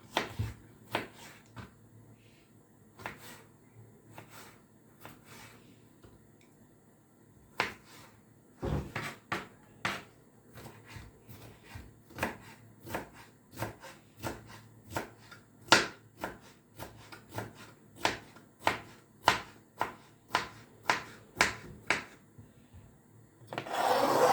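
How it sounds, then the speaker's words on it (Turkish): A knife chops cucumber steadily on a board, dozens of sharp taps in an uneven rhythm, quiet background, close by. "Salatalık da doğrayacağım."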